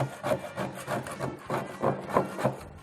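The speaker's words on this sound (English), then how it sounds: "So all this has to be scraped off before you can sandblast it" Someone scrapes undercoating off an old car body, a rhythmic series of close rasping strokes repeating about twice a second, each a gritty scrape.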